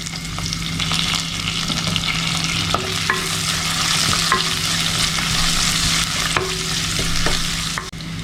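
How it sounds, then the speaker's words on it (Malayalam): Chopped onion, ginger, garlic, curry leaves and green chillies sauté in coconut oil for Kerala moru curry. A steady close sizzle runs throughout, broken by repeated light clicks of a stirring spoon against the pan. "ഇപ്പോൾ 2 മിനിറ്റ് നേരം നന്നായിട്ട് വഴറ്റിയെടുത്തിട്ടുണ്ട്."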